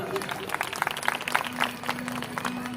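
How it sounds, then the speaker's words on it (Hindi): An audience claps for a child at a Shrimad Bhagwat Katha gathering at Saraswati Kunj in Greater Noida. The applause is brisk and steady, with a voice talking over it. "एक इस बच्चे के लिए जोरदार ताली।"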